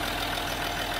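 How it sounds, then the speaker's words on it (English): A car engine idles steadily in the Alps after a full rebuild, a low, even rumble with a regular pulsing beat, loud and close, with no talking. "And the engine sounds really nice."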